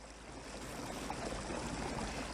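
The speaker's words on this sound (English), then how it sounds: "a sparkling stream burbling through the woods" A stream burbles through woodland, a faint, steady wash of trickling, gurgling water that continues evenly throughout with no voices.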